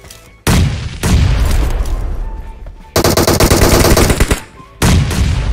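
Sharp bursts of gunfire and booming blasts in a PUBG Mobile match, loud and repeated in clustered volleys with short gaps between them.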